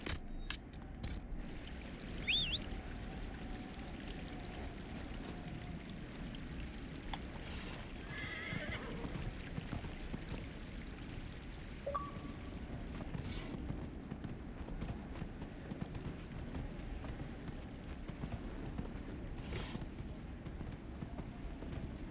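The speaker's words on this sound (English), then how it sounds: "I'm on a horse." Horse hooves clip-clop steadily in the video game Dragon Age: Inquisition against a constant low rumble, with an occasional whinny and faint clinks scattered through the scene.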